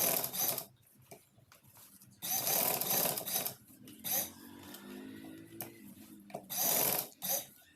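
A sewing machine stitches a kameez in several bursts of rapid mechanical whirring, each a second or two long, separated by brief pauses while the fabric is turned.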